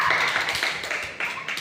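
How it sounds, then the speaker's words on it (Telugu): Children at a VBS game clap their hands in a quick, light burst of close applause, a short run of sharp taps with no talking. "చప్పట్లు కొట్టండి."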